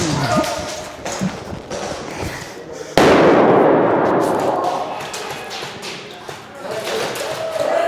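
A loud, sudden blast from an explosive device goes off during an airsoft game, cutting in sharply and then rumbling and decaying over several seconds, with people talking and shouting before and after it.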